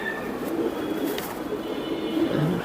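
Giribaz pigeons cooing softly in a loft, low gentle coos repeating over a steady background hum, no voices.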